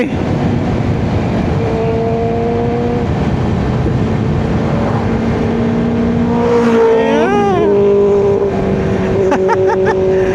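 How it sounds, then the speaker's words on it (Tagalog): Engines roar steadily as vehicles rush past close by on a mountain road in Quezon, Philippines, with rising and falling pitch sweeps toward the end as a couple of motorcycles speed by. "Ang bibilis sa mga motor, grabe."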